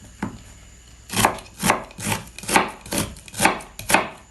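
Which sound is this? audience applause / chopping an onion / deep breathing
chopping an onion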